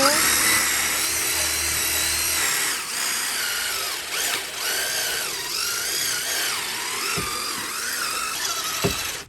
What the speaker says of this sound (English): I'm going to put the drill on it.